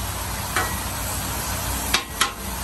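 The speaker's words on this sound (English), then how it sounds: "we left a lot of fat on this meat because you want it to cook down" Fatty steak meat renders in a hot pan with a constant close sizzle and crackle, broken by a few sharp pops and spatula scrapes.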